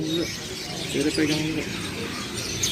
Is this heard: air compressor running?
no